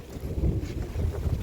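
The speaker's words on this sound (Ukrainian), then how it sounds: "І холодний такий вітер, холодне повітря таке несе." Steady cold storm wind in the Netherlands roars and buffets against the microphone, a low rumbling gusty rush with no voices.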